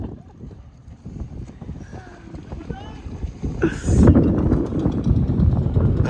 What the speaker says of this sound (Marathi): छोटी बोट आली आमची.